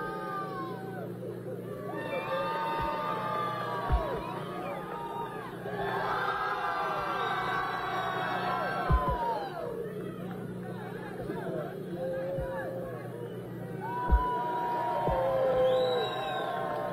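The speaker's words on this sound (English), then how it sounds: "when I put my hand over the head, I need y'all to cheer" Large outdoor crowd at the Baker Buffalo Festival cheering and shouting together in sustained waves of whoops and yells, with a few sharp louder bursts rising above the steady roar and general hubbub.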